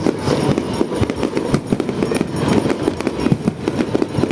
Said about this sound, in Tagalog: Ayan yung ano yung fireworks na binili ko.